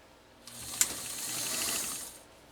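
A Pfaff 230 sewing machine runs a short burst of zigzag stitching, a quiet whirring mechanical rattle with a small click near the start, rising and fading over about two seconds with no talk.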